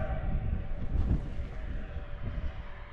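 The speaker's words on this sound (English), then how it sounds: "We got another train coming." A train rumbles past near the Comstock Lode mine in Virginia City, Nevada, heard outdoors as a steady low roar with a muffled swell, moderately distant and without talk.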